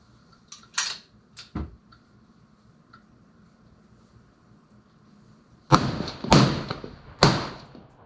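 A rifle fires at a 1000-yard target on an open range: scattered sharp cracks, then a louder cluster of three heavy reports near the end, each fading quickly against quiet outdoor air.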